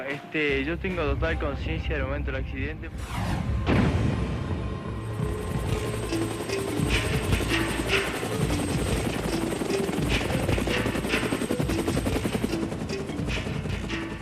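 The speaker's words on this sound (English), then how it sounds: "The Chilean Air Rescue Service dispatches helicopters to rescue the remaining survivors." Loud rescue helicopter rotor thumping and engine whine, steady and close, with voices heard talking over the noise at the start, in the Andes.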